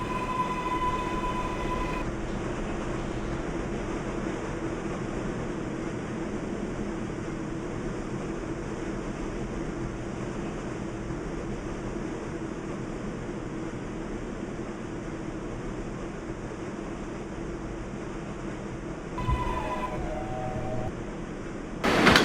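A simulated R142A 7 subway train in the Openbve train simulator game arrives and departs at an elevated station, giving a steady, loud rumble of wheels and motors throughout with brief tonal chimes near the start and end.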